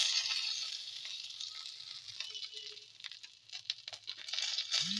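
Curry leaves sizzling in hot oil with asafoetida and ginger paste, a bright hiss that swells, fades in the middle with scattered crackles, then rises again, close.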